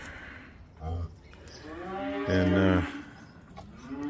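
Cattle by a tub feeder, a cow with her newborn heifer calf nearby, giving a couple of fairly close moos, a short one and then a longer, louder one, with a faint word spoken alongside.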